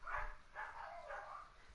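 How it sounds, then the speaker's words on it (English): Dogs bark three times in a row, muffled and faint, as though in another room. "I don't know what my dogs are barking at."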